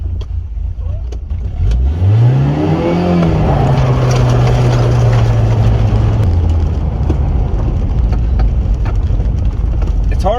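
A 1983 Plymouth Turismo pulls away with a rising engine rev that settles into a steady drone as the car drives on, loud and close from inside the cabin.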